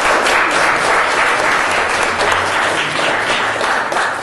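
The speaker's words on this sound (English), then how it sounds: "Let's give them a round of applause." An audience at a memorial and education center breaks into loud, sustained applause, many hands clapping close and evenly throughout with no speech over it.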